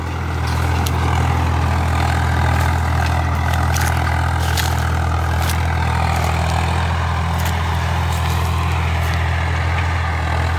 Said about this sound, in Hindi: आ देखो आवाज़ वेखो ट्रैक्टर की बड़क